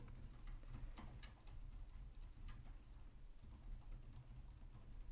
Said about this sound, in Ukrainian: давайте його відсунемо і щось е, напишемо е, по клавіатурі